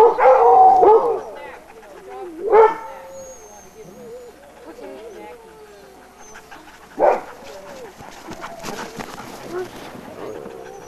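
A dog barks and howls in several separate outbursts: a loud yelping howl at the start, a sharp bark a few seconds later and another midway, with softer whines and quieter sounds between them.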